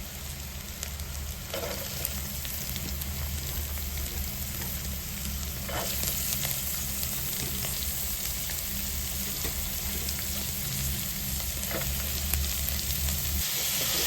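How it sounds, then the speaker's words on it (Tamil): Chopped vegetables sautéing in a pan with onion and ginger for a Tamil wheat rava kichadi, a steady sizzle running throughout with occasional scrapes of stirring. "ஒரு 5-6 நிமிஷம் காய் நல்லா வதங்கட்டும்."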